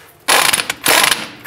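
Ratcheting wrench clicks rapidly in two bursts while the lower clevis fork bolt comes off the front shock of a 2005-10 Jeep Grand Cherokee, close and loud with no talk.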